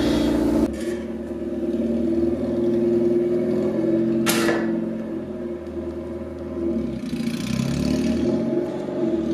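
A Honda CRX engine idles steadily and revs up after a fresh starter swap, running loud and continuous throughout with a sharp burst partway through.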